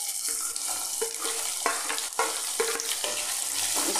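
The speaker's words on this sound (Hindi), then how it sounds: "इसको फ्राई कर लेते हैं गोल्डन ब्राउन होने तक" Finely chopped onion fries in a pan with cumin and asafoetida, making a continuous sizzle. Repeated soft clinks and scraping taps from stirring cut through it at close range.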